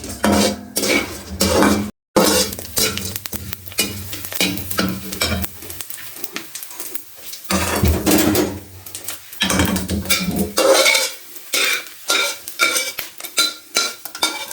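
Dry fruits such as almonds fry in a pan and get stirred for flaxseed laddu, with repeated scraping and clinking of a utensil against metal over a steady sizzle and a few brief pauses.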